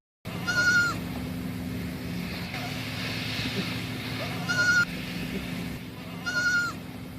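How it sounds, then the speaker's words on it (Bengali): Goat kids bleat in three short, bright, quavering calls spaced a few seconds apart, standing out over a steady low background hum. "ছয় ছাগল ছানা লাফিয়ে চলে।"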